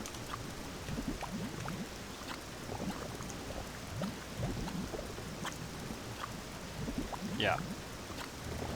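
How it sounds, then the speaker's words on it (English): Steady rain falls in Morrowind, a soft continuous patter and hiss with faint water-like texture running through the whole stretch, while someone talks briefly over it. "It is raining."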